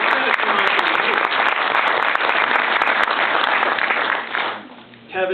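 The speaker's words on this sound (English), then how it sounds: "So, everybody please give Tony. a round of applause" Audience applause at a film festival Q&A after a screening, a dense, loud, steady wash of many hands clapping that fades out near the end, with scattered voices mixed in.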